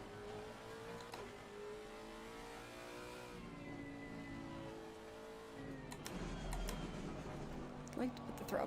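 A Lexus race car engine drones and revs in the racing game Assetto Corsa Competizione at Bathurst, a faint rising and falling whine with gear changes, while a voice talks over it.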